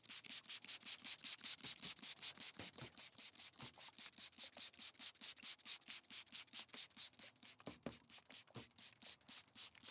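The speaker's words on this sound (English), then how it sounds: "I'm bored with this grit of sandpaper." Sandpaper rubbed back and forth across a plastic car headlight lens, a steady rapid rhythm of close, even scraping strokes, about four per second, continuing alone without pause.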